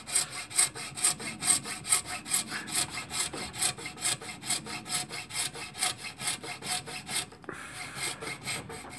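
A hand saw cuts during the making of a metal mitre plane. Steady, evenly spaced back-and-forth strokes rasp close by, with a brief pause near the end, and no one speaks.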